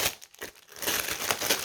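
Crinkling protective paper being pulled open from a cross-stitch craft item, a short burst of rustling that grows louder and denser toward the end, close up with no talking.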